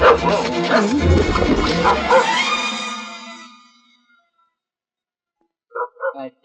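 Dog barking in a Kannada comedy film scene: loud, yipping barks and whines for about three seconds, fading into silence, followed by a few faint short sounds near the end.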